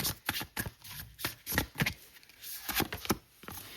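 Tarot cards being shuffled close up, a quick series of crisp riffling flutters and soft slaps in an uneven rhythm, with no talking.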